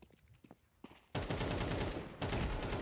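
Heavy video game gunfire during a PC gameplay test erupts after a few faint taps, then a dense, loud, continuous stream of rapid automatic shots fills the rest, briefly dipping before resuming.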